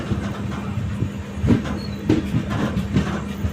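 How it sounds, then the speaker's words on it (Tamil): The Tirunelveli-Mettupalayam Express pulls out of Kadayanallur station with a steady low rumble and a loose, rhythmic run of wheel clacks as the carriages roll over the rails, with no voices. "கடையநல்லூர் ஸ்டேஷன்லேருந்து நம்மளோட ட்ரெயின் கிளம்பியாச்சு"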